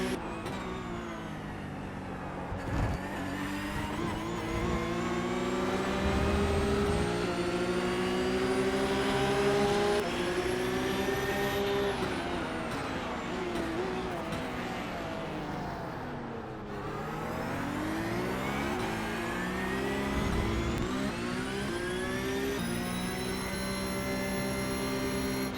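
Race car engine in the iRacing sim racing game, revving loudly and continuously with rising and falling pitch through gear changes and corners, a steady close engine drone with no talk.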